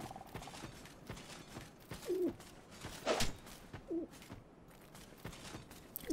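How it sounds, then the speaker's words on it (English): Soft bird coos or chirps from the Dark Souls 2 game world, a few short calls spread over a steady ambient background without talk. "It sounds like there's some sort of chirping going on."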